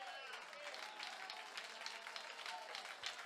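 A church congregation at a conference session claps hands in a dense, continuous patter of many hands, moderately loud and steady, with speech faintly mixed in.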